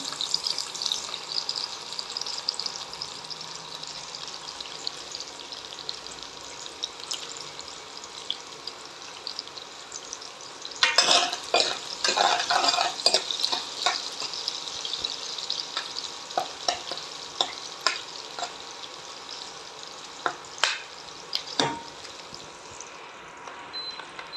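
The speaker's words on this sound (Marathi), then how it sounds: "आता आपण तेल गरम झालेलं आहे आणि त्याला आपण कांदा टाकणार आहोत" Chopped onions hit hot oil for a Maharashtrian mutton curry, a steady close sizzle and hiss with bursts of crackling and spatters as they are stirred in the pan, no voices.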